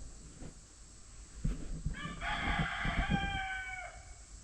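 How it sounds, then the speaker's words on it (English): A rooster lets out one long crow partway through, fairly clear against quiet rustling and a few low clucks. "Roosters."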